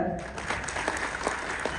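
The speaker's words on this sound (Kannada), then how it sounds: "ಜೋರ್ ಚಪ್ಪಾಳೆ" Audience at a film teaser launch event applauding, steady soft clapping with crowd murmur and voices over it.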